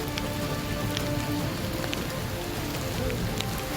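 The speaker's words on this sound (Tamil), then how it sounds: "கோவில்பட்டி சுற்றுவட்டார பகுதிகளில் கோடை மழை." Summer rain falls steadily around Kovilpatti in Tamil Nadu's Thoothukudi district, a constant dense patter on surfaces with scattered individual drops standing out and no voices.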